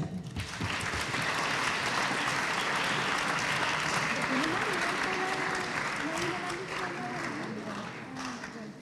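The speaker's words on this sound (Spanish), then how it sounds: "Resumámoslas con un fuerte aplauso." An audience claps at the opening of a citizen deliberation event in Valparaíso, a loud, sustained round of many hands that tapers slightly toward the end while a few voices murmur underneath.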